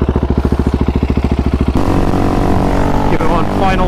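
Husqvarna 701 Supermoto with a Wings aftermarket exhaust makes a loud, close flyby: a rapid, evenly pulsing single-cylinder idle thump, then a sudden roar as the engine revs hard and the bike passes.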